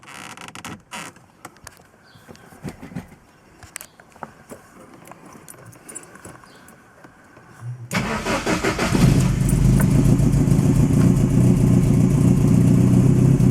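Clicks and cranking lead to a Lotus Excel engine with rebuilt carburettors catching about halfway through. It then settles into a loud, steady running rumble close by.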